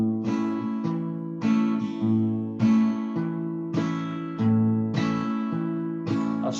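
Guitar picking a root-and-fifth pattern, bass note on the 5th string, then a chord, then the 4th string, repeating in a steady loop; clear close plucks each followed by a strummed chord, no talking.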